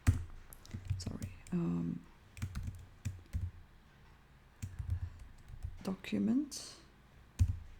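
Code is typed on a computer keyboard in irregular bursts of close, crisp key clicks, with pauses between them. Someone speaks quietly between the bursts.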